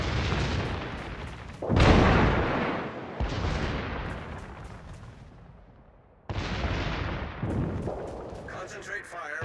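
Heavy naval artillery salvos from a destroyer in a sea combat game, deep booming blasts with rumbling decay, several spaced shots and a trailing roar, while a voice speaks commands.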